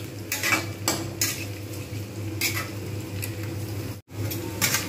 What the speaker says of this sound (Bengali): পেঁয়াজগুলোকে ভালো করে লাল করে ভেজে নেব